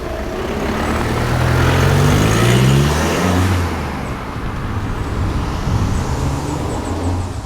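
Audi TT with a straight-piped exhaust revving loudly, the engine swelling to a peak and then dropping back to a rough idle rumble, close by.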